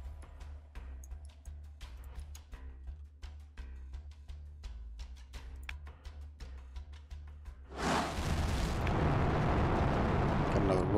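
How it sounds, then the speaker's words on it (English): A rocket launch in the Cold War strategy video game Arms Race bursts in as a loud, steady roaring rush that swells over soft background music and holds to the end. "Rocket launch."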